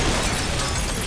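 A car blows up in a Road Trip video game minigame, one short, loud, dense explosive burst that fills the whole moment.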